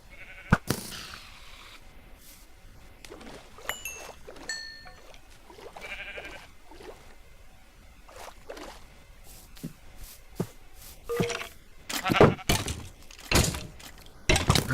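Sheep in the Minecraft video game bleat in short, sharp game-sound calls scattered across the clip, some near and loud, mixed with blocky thunks and footsteps, with no voices over them.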